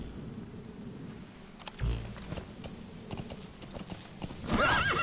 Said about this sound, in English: Hello, little horsey.